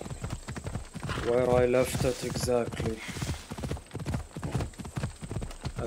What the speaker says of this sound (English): Looks like a sturdy horse.